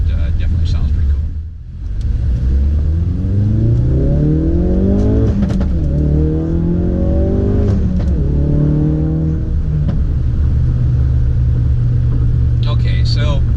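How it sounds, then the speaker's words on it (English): 2016-2018 Ford Focus RS fitted with an MRT cat-back performance exhaust accelerating, a loud close rumble rising through the revs across several gear changes, with an aggressive exhaust note. "spirited acceleration under normal driving mode definitely has a performance sound, definitely an aggressive exhaust"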